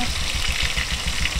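Oil sizzles and crackles in a pan during home cooking, a steady close hiss with a faint rhythmic low pulse beneath, continuous and without talk.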